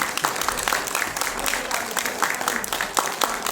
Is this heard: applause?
yes